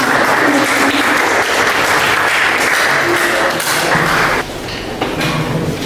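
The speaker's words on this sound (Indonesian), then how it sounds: "tepuk tangan dong teman-teman" Classmates clap after a group presentation in a teacher-training classroom, a dense, steady patter of many hands filling the room at close range, thinning slightly toward the end.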